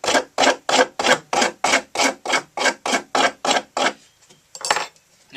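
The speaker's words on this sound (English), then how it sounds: "this I've been going across like this and really roughing up the wood against the grain" A threaded hook with a coarse-threaded end is dragged across new wood against the grain to rough it up. Twelve loud, evenly spaced rasping strokes sound close up, followed by a pause and one fainter scrape.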